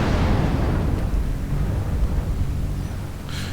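Missile explosions hammer an Atlas mech in MechWarrior Online, a loud rumbling blast that fades into a low roar, with a short sharp burst near the end.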